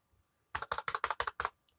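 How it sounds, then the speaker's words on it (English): Quick burst of about seven crisp keystrokes on a computer keyboard while coding in Android Studio, close and clear in a quiet room, with a faint click just before and after. "I will show you this by typing this Android."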